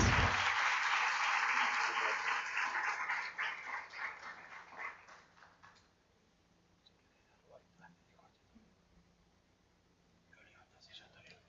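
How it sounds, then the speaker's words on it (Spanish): An audience at a vocational guidance and inclusion conference applauds as engineer Nahuel González is invited up, a strong burst of clapping that tapers off over several seconds into quiet room noise with faint murmurs. "Le damos un fuerte aplauso"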